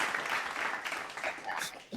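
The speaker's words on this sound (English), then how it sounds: "I think we need to give you a round of applause because that was pretty amazing." An audience claps together in a brief burst of applause at a talk event. The clapping sounds fairly quiet and somewhat distant and rises and falls over a couple of seconds.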